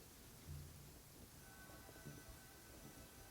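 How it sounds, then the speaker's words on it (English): Heavy rain pours in a video game, Genshin Impact, set in a harbor town during the Lantern Rite festival, a steady dense wash of noise at moderate level, with no other sounds standing out. "Quite a downpour."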